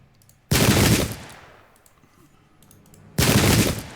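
Two loud, dense bursts of rapid gunfire crash out in the Pike and Shot strategy game, separated by a few seconds of near quiet, each volley a wide crackling roar.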